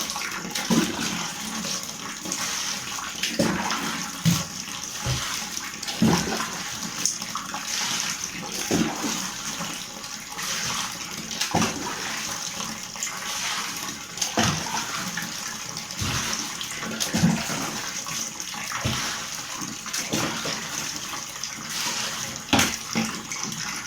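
Water pouring steadily into the tub of an AQUA JAPAN twin-tub washing machine over laundry, a continuous loud splashing rush with small surges, close up and with no talk.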